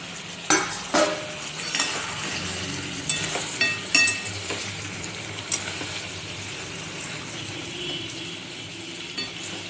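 Potato pieces added to sizzling chicken curry with yogurt, followed by repeated loud clanks and scrapes of a spatula stirring over a constant frying hiss.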